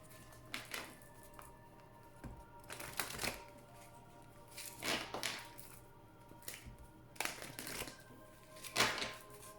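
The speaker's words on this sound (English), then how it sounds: "as I shuffle the cards" Oracle cards being shuffled close by, in four or five separate brisk riffling bursts separated by quieter pauses, with no speech over them.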